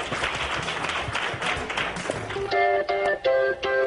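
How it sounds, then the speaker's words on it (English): Audience applause at an Endeavor entrepreneurs' gathering after a group vote, a dense even wash of clapping that gives way partway through to bright ringing tonal hits, loud and close. "Give everyone a round of applause."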